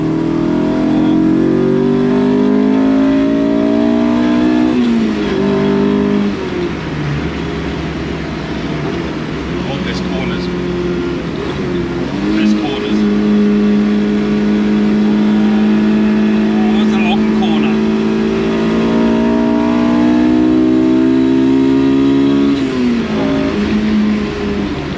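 A Honda S2000-powered Triumph Toledo weighing 850 kg roars loudly and continuously up close, its engine note repeatedly rising and falling through revs as people talk over it.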